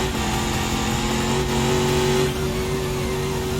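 Car engine in the BeamNG driving game revving hard and steadily under throttle at near top speed, a loud continuous drone with a slight pitch rise near the middle, and no talk.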